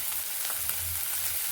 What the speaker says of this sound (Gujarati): હજી શાકભાજી થોડીક 2-3 મિનિટ સુધી આપણે બફાવા દઈશું